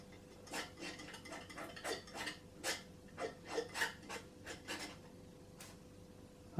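A palette knife scrapes a little acrylic paint on a palette, a series of soft, short rasping strokes in an irregular rhythm, close and quiet.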